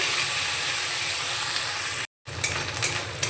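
Onion paste drops into hot oil with fried cardamom, cinnamon and clove, giving a steady, close sizzle that cuts out for a moment and then resumes with light stirring clicks.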